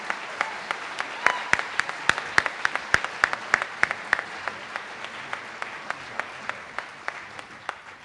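A police awards ceremony audience claps, with one nearby pair of hands striking sharp, evenly spaced claps over a softer bed of wider applause that gradually thins out, with faint voices underneath.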